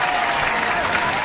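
Clapping applause on a talk show set, a dense and even burst of hand claps throughout, fairly loud with a faint tone running beneath.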